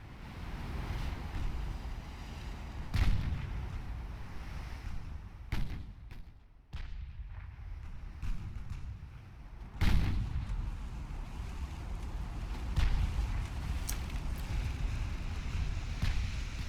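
Naval artillery in Ultimate Admiral Dreadnoughts booms out as warship guns fire: several heavy, irregularly spaced blasts over constant wind and sea noise, fairly loud against a steady rumbling bed.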